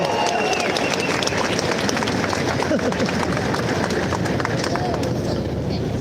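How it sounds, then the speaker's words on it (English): A large crowd at a Pittsburgh rally gives a loud, dense, continuous round of applause that holds steady for the whole stretch. "Please give her a round of applause."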